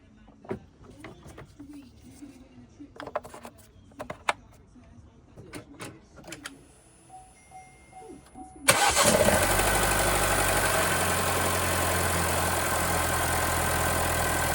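A Vauxhall Mokka 1.4 engine cranks and fires after some quiet clinks and knocks during a service, then settles into a steady, close, humming idle that runs on to the end.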